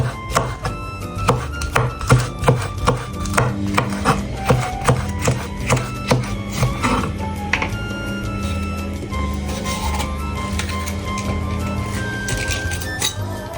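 Green peppers sliced into thin rings with a knife on a cutting board, a steady series of close, crisp chopping knocks with a regular rhythm, accompanied by faint kitchen rustling.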